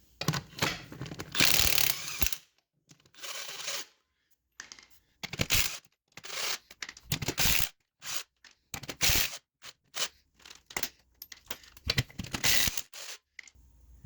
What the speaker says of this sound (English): So the first thing you want to do is remove the wheel.